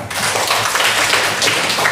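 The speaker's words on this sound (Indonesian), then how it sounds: "Tepuk tangan dulu ya" Classroom of students clapping during a teacher's lesson on computer hardware, loud, close, rapid clapping sustained throughout.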